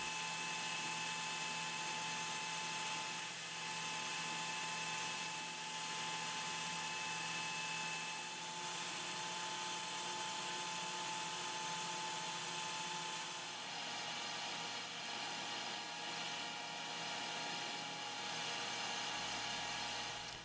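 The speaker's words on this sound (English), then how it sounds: "Then I'm going to machine a cone into which I'll put a round bottom hole" A lathe machines a cone into the bottom of a metal spinning top, giving a steady high whine and hiss of cutting over a continuous motor hum, close and unbroken for the whole stretch.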